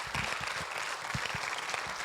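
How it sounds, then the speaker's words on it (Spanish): Church congregation applauding at a Spanish-language service, a dense, steady spread of clapping with some lower thumps mixed in, fairly faint and continuous. "Give an applause to the Lord."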